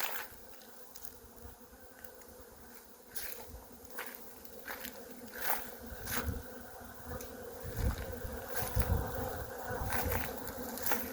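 Honeybees work sunflowers at an apiary during the sunflower honey flow, making a continuous close buzzing hum. Individual bees zip loudly past the microphone again and again over the steady drone of the swarm.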